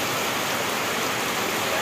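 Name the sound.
heavy rain falling over fields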